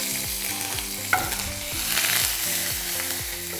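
Curry leaves hitting hot oil in a pan with dried red chillies, urad dal and chana dal, sizzling and crackling steadily while being stirred, with one sharp burst of spatter near the start.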